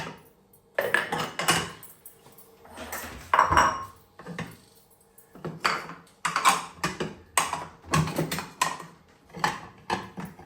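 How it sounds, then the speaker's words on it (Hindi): Dishes, pots and utensils clatter and clink in a home kitchen during washing, in irregular close bursts of metallic and ceramic knocks separated by brief quieter gaps. "बाजी बर्तन धो रही थी"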